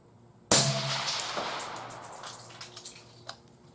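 A single sharp rifle shot cracks loudly during ballistic truing, then rings off into a decaying metallic tail with some faint clatter afterward.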